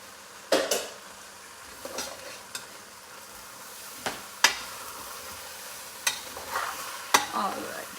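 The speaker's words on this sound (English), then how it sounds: "Mix it very well though. You have to go from all the way from the bottom, otherwise it will start burning out" Soaked rice and moong dal are stirred in a pot with a utensil, giving quiet, scattered scrapes and clinks at irregular intervals against a faint, low background, with no talking.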